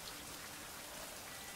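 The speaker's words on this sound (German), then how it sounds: "es regnet" Steady rain in the survival game Survival: Fountain of Youth, a continuous soft hiss of falling drops spread evenly across the short stretch with no voices over it.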